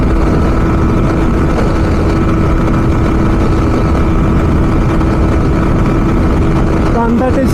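At high speed on a road run, a Yamaha R15M motorcycle holds a continuous loud engine whine under heavy rushing wind, with a brief voice surfacing at the close.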